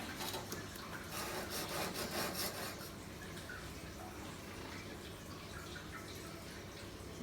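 A plane cutting iron is rubbed back and forth on an oiled sharpening stone, giving a quiet, close, gritty scraping with steady strokes that fade to a softer, continuous rasp.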